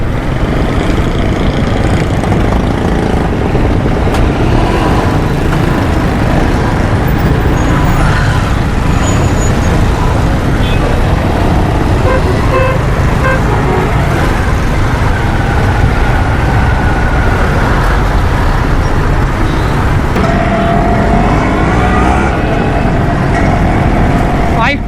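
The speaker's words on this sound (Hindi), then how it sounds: "यहाँ पर भी ट्रैफिक बहुत ज़्यादा जाम है।" Heavy jammed traffic fills a Karachi street near Khudadad Colony, with a dense, constant roar of idling cars, buses and engines close by and occasional horns, while people talk in the background.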